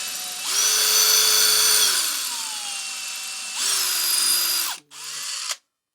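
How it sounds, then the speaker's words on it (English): A power drill whines loudly at high speed while drilling into a knife handle, eases off, then runs again in a second burst before spinning down and stopping abruptly. "I'm going to run the drill down in the centre of that a little bit"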